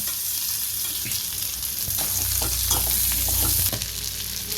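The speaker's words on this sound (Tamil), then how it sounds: "இப்போ நம்ம வதக்கி வச்சுருக்கிற வெங்காயத்தையும் இதில் சேர்த்துருவோம்" Kodi kari meat fries with sautéed onions in a pan, a loud continuous sizzle with a low bubbling rumble and a few scrapes and knocks of stirring, close up and without talk.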